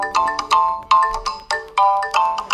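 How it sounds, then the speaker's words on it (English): Default ringtone on a Tecno Spark Go 2023 phone, a bright repeating electronic melody of short chiming notes in a quick rhythm, clear and close with nothing else heard. "Right now we can find list of default ringtones."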